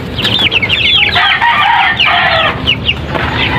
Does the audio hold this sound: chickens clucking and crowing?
yes